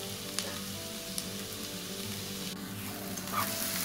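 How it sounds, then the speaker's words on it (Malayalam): Onions roast in hot oil for a Malabar stuffed chicken gravy, giving a steady, soft sizzle and crackle with a couple of faint clicks from the pan, continuous and close with no voices. "ഇവിടെ നമ്മുടെ ഉള്ളി നന്നായിട്ട് റോസ്റ്റ് ആക്കാൻ ഇട്ടിട്ടുണ്ട്"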